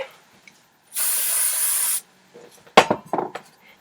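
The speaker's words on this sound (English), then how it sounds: "I'm going to use a little bit of hairspray" Hairspray from an aerosol can, applied while styling a retro beehive with bumper bangs, gives one steady hiss lasting about a second, close and loud, followed by brief brushing and handling noises.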